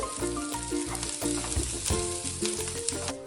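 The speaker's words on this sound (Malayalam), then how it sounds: "ചൂടായിട്ടുണ്ട് അതിലേക്ക് നമ്മൾ എടുത്തു വെച്ചിരിക്കുന്ന തേങ്ങ ചേർക്കുകയാണ്" Grated coconut frying in a hot pan, a loud close sizzle and crackle mixed with stirring and scraping against the pan, no talk.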